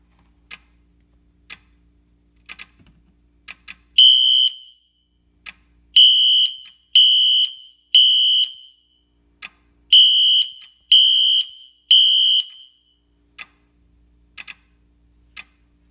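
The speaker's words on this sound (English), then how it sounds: "I can just plug the wire back in, and the horn will go." A fire alarm horn on a 2-wire system sounds loud and close in short repeating blasts in a temporal pattern, interspersed with sharp clicking ticks from the strobe circuit.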